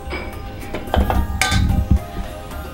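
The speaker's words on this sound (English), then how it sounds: "just remove the strainer." A metal tea strainer being lifted off a measuring jug of freshly strained chai, giving a few close clinks and scrapes of metal against the jug rim, with small knocks spread over a few seconds.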